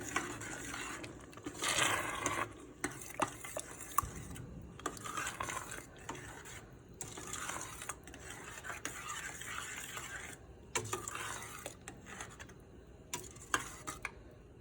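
Tomato sauce for lasagna is stirred in a pot with a utensil. Soft, quiet scraping and light clinks repeat irregularly over a low background, all heard close.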